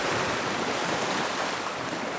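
Stormy sea surf crashes and washes against rock in a continuous broadband roar, steady and fairly loud, with wind buffeting the microphone and no voices.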